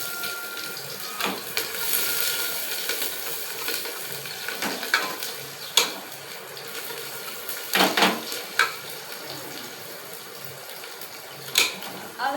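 Cumin and chopped onion go into a hot pan to fry for homemade desi churma, giving a soft, steady sizzle with scattered sharp clinks and stirring scrapes, fairly quiet and close.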